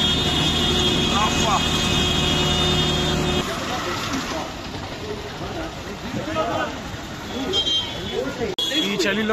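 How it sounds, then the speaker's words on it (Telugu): Auto rickshaw speeding through Delhi traffic on a cold day: a steady roar of engine and road noise with passing vehicles and horn toots, and a person speaks briefly over it. "మా ఆటో బాబాయ్ అయితే చాలా ఫాస్ట్గా వెళ్ళిపోతున్నాడు"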